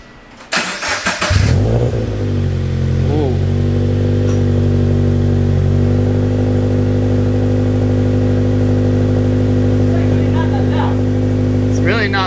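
A Toyota GT86 with a full HKS exhaust and no catalytic converters starts up with a sharp bark, then settles into a loud, steady, deep idle with a few brief blips, with voices talking over it.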